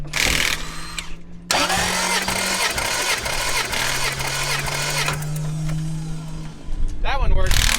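Toyota 2JZ engine in a Mustang cranking over on the starter during a compression test, a steady whirring drone in two long bursts, with people talking around it.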